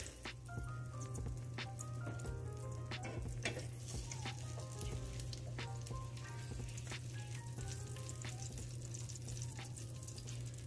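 Eggs frying in a buttery pan with syrup, a steady close sizzle and crackle with popping bubbles running throughout.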